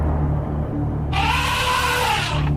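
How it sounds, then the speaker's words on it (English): An elephant gives a single loud, sustained trumpeting call that begins abruptly and cuts off after about a second and a half over a low rumbling background. "That's the sound of an elephant."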